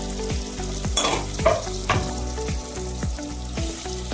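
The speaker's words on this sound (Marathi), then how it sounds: "तेलामध्ये आपण ह्या भाज्या कट केलेल्या टाकून घेणार आहोत" Chopped vegetables and beetroot fry in oil for Mumbai street-style butter pav bhaji, a steady sizzle broken by repeated scraping stirs of a spoon against the pan, close and fairly loud with no talking.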